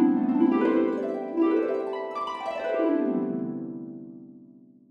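Synchron Harp sample library plays a pentatonic major scale as rapid rising and falling harp sweeps, bright plucked strings ringing together and decaying gradually, with no talking.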